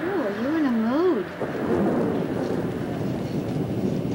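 A storm builds with a deep, continuous thunder rumble and rain-like wash, while a warbling wind or ghostly tone wavers over it at the start of a dramatic scene.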